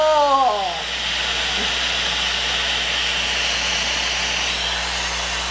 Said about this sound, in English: when you go to put the blow dryer on it, you're supposed to use only cool heat